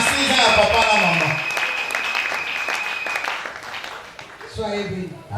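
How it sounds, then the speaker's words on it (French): A women's Christian convention crowd claps in a dense burst while a voice and tonal sounds carry over it, then the applause thins out. "Applaudissez pour nous."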